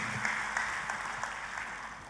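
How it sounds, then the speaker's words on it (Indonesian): Congregation applause at a church service, dense steady clapping from a crowd, moderately distant and continuous. "Kita kasih tepuk tangannya pula yang paling meriah buat Tuhan kita"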